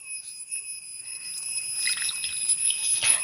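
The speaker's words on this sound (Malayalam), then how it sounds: "അത് നമുക്ക് വെള്ളം ഒഴിച്ചിടാം." Water is poured over a lime-sized lump of tamarind for Kerala sadya sambar, a soft rising trickle and splash that builds toward the end over a faint steady high whine.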